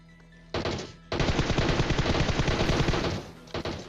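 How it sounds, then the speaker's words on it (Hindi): Automatic gunfire in the PUBG battle royale video game: a short burst, a brief pause, then a sustained rapid stream of shots lasting about two and a half seconds, loud and close with no voices. "गेम एक्स प्रो ने मार दिया उसे गन से"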